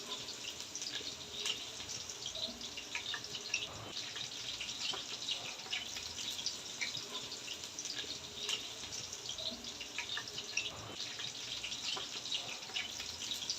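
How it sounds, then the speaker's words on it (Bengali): Boiling water pours into rice that has been frying for pulao, a steady splashing, bubbling flow with faint sizzle and small clinks, moderately quiet, no voices. "এবার আমরা ফুটন্ত পানি দিয়ে দিচ্ছি।"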